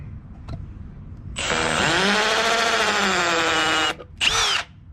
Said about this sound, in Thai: อันนี้คือเบอร์สองโหมดกระแทก นะครับเจาะปูน นะครับเห็นไหมง่ายเลย